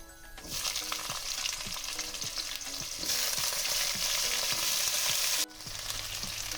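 Oil frying and sizzling in a pan for a bitter gourd (karela) dish, a loud steady crackle with rhythmic scraping stirs throughout that briefly cuts off near the end and then resumes, with no one talking.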